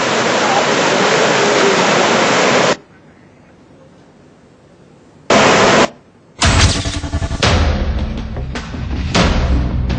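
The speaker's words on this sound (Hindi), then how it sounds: "पानी की तेज धारा वहां से बह रही है।" Rushing floodwater current during a flood in India, sweeping past a submerged bus, a loud broadband roar that cuts out abruptly, then returns in bursts and keeps surging steadily for the final seconds.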